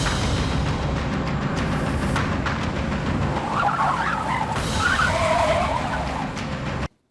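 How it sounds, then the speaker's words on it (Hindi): A car overtakes a motorbike with a sustained roar, tires skidding and squealing through the middle of the pass, before the noise cuts off abruptly. "अचानक से एक कार ने मेरी बाइक को ओवरटेक किया।"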